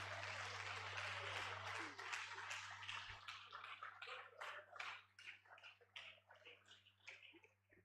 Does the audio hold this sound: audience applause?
yes